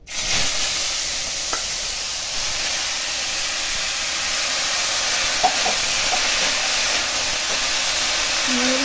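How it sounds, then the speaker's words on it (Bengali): Water lily stems hitting hot oil with dried red chilli and sugar in the pan, a loud, steady frying sizzle and hiss that holds for several seconds with a few faint clinks of stirring. "এবার আমি শাপলাটা দিয়ে দিচ্ছি তেলের মধ্যে।"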